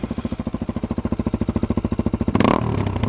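A Suzuki DRZ250 motorcycle single-cylinder engine fitted with an FMF Quiet Core exhaust insert idles with a steady, rapid thumping pulse. It is loud and close, then jumps into a brief, sharper rev near the end.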